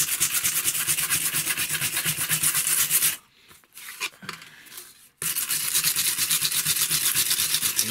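Balsa wood scraped to roughen its surface in a rapid, steady back-and-forth rasping rhythm, close and loud, pausing for about two seconds midway before resuming at the same pace.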